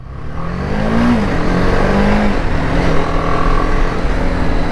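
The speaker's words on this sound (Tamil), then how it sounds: "ஃபர்ஸ்ட் டைம்ங்க பிஎம்டபிள்யூ பைக் ஓட்ட போறோம்." A new BMW motorcycle engine runs loud and steady at a petrol station as the riders move off, with rising and falling revs, and no talk over it.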